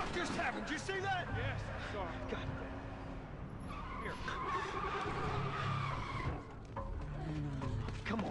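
In The Last of Us, a car's engine roars while its tires squeal and skid in bursts, heard under frantic shouting voices throughout.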